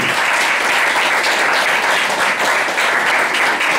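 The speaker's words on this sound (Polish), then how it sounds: "Wielkie brawa dla Wiktorii." Dense, loud applause from a festival audience for a young snare-drum performer, a continuous wash of clapping filling the whole stretch without talk.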